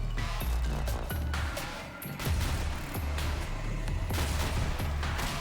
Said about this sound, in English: Rocket launcher for you.